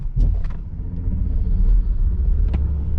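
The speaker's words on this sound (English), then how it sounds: "Let me just demonstrate you that by doing a race start." Heavy Mercedes EQS 580 electric SUV (544 hp) doing a race start at night, a steady low rumble of road and drivetrain noise building through the cabin, with a few brief higher whooshes, and no talking.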